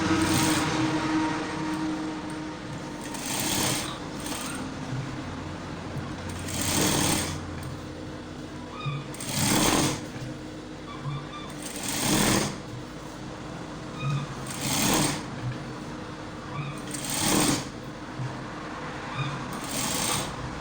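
A sewing machine stitches a suit chest pad in short bursts of fast whirring, about eight of them spaced a couple of seconds apart, with a soft background hum between runs and no voices.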